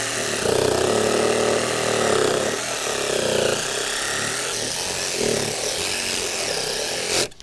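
A power saw cuts the ends off wooden deck beams, a loud, sustained whining buzz that dips and rises as the blade bites through each cut, close by, ending in a sharp clack.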